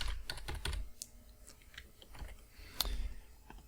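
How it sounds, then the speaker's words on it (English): Close, quick keystrokes on a computer keyboard come in short bursts of light clicks with brief pauses, ending in a firmer key press. "type in Bitcoin news"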